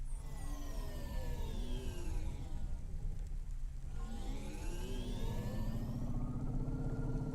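A flying car in the Cloudpunk game gives a steady, smooth engine whir that swells and falls in pitch as it passes, with sweeping tones continuous and alone.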